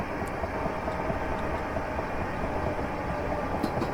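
A class 375 electric train runs along a line in Train Simulator Classic, giving a steady, fairly loud rolling rumble with faint rail clicks and no voices.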